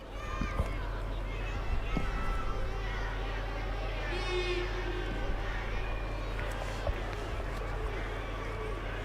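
Stadium crowd at a Hungary versus Germany under-21 football qualifier, a broad sustained roar with scattered shouts and whistles, heard beneath steady commentary-style talking.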